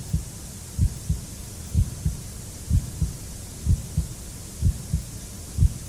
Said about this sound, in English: The heartbeat's in already.